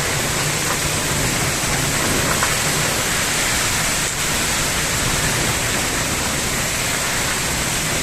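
Heavy rain pours steadily in a dense, unbroken hiss, loud and close, with no pauses across the whole stretch.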